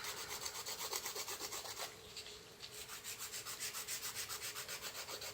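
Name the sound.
nail file filing resin nail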